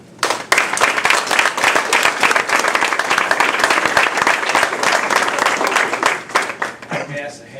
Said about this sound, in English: I think we need to give them all a round of applause.